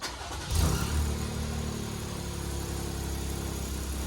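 A 2020 Jeep Gladiator engine on a test drive, starting up with a brief rev and then settling into a steady, close engine drone.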